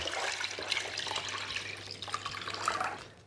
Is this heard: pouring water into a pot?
yes